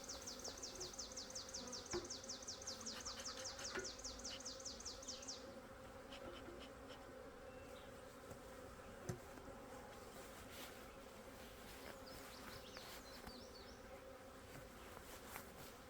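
A caught honey bee swarm festooning and building new comb hums in a soft, steady drone, faint and continuous, with a few nearer buzzing passes early on and brief ticks.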